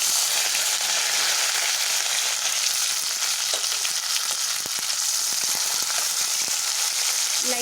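Onion, green chili and curry leaves hit hot oil already holding cumin and dried red chilies for a manathakkali sambar, making a dense, continuous sizzle with small crackles and pops throughout.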